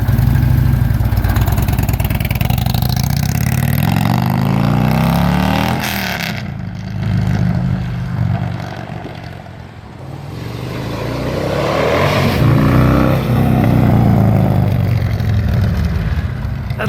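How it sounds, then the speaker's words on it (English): A 2009 Harley-Davidson Tri Glide Ultra trike with an upgraded 110-inch engine runs loud and close, its deep rumble rising and falling as it revs and pulls away, dipping briefly before swelling again. "That 110-inch upgrade sure sounds nice, doesn't it?"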